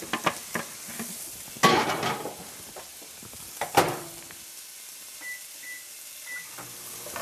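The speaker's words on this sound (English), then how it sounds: "our sausage is starting to cook up here" Sausage sizzling in a skillet, a crackling fry punctuated by a few sharp scraping and stirring bursts before settling to a quieter hiss.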